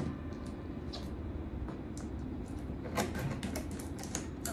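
Scissors snip and tear through plastic packaging for a Logitech G29 steering wheel's gear shifter, making quiet, irregular cuts and crinkles with sharper clicks near the end and no talking.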